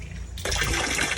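Strong water suddenly bursts from a shower in a campsite restroom, a loud, steady gushing rush that starts abruptly after a brief quieter moment and keeps going.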